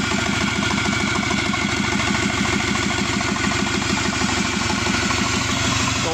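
Subaru Forester SG9 EJ255 turbo engine sitting on a pallet, running with a fast, even pulsing throb and a constant rough hum, close and loud throughout.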